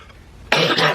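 A man coughs loudly in a short, harsh burst that begins abruptly midway, close up, with a low rumble ahead of it and no speech.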